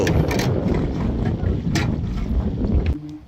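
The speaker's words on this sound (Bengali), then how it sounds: "গুবের বাতাস দিচ্ছে তো" Strong wind buffets the microphone aboard a river trawler on the Padma, a loud continuous rumbling roar with gusty surges, ending with a brief faint voice.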